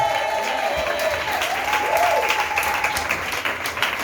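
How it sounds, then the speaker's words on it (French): A church congregation breaks into continuous, lively applause, with a voice calling out over the clapping and a crowd murmur throughout. "Acclame Jésus"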